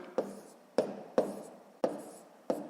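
Pen strokes for hand-written column multiplication of decimal numbers in a sixth-grade maths exercise: five crisp taps and scratches spaced at roughly half-second intervals, close and fairly quiet, with no talking.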